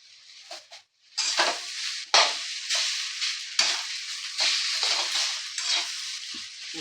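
Noodles being sautéed and fried in a pan for homemade veg spring rolls: bursts of crackling sizzle come and go as they are stirred, close and fairly loud, with no talking.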